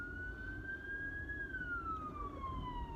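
An ambulance siren wails faintly in the distance, its tone rising slowly then falling, over a steady low rumble of traffic.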